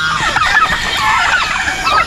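Turkeys gobble loudly and close at a rural farm, with several overlapping warbling calls over the whole short stretch.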